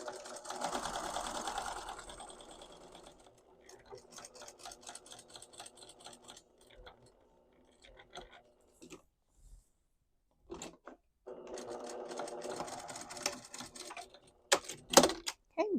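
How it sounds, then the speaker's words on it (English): A sewing machine stitches a straight seam around a rectangle on a skirt pocket, running in steady stretches with pauses and soft handling clicks between them. "you're going to just stitch straight along that rectangle that we made"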